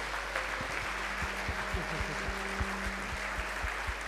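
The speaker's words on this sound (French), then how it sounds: "je vous propose d'applaudir encore une fois le conférencier et la comédienne" An audience applauds the lecturer and the actress after a lecture-performance about Émilie and Voltaire, a steady, distant patter of many hands continuing throughout with some individual claps standing out.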